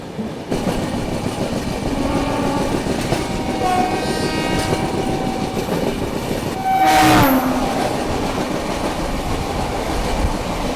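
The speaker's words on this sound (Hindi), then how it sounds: "शायद से कोई ये पैसेंजर ट्रेन लग रही है मेरे को" A passenger train pulls into Secunderabad Junction railway station with a continuous rolling rumble and wheel clatter, and a loud horn blast sounds partway through, with no talk.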